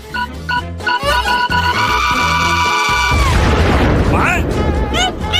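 A cartoon candy bomb goes off with a loud booming burst that swells and rolls on, following a stretch of upbeat music with high voices.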